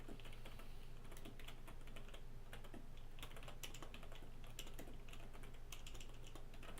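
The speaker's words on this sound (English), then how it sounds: "if I can type today" Typing on a computer keyboard: a steady run of quick, close key clicks over a low constant hum, with no talking.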